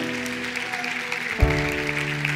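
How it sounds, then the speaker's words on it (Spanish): A church congregation at a Spanish-language sermon applauding, a steady wash of clapping under sustained held keyboard or organ chords that shift to a new chord partway through, no speech. "Dale un aplauso al Señor"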